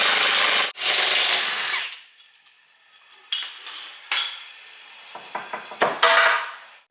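A power tool unbolts the rear monoleaf spring on a C5 Corvette, with loud bursts of whirring drilling, then sharp metallic clinks and clatter of parts being handled close by.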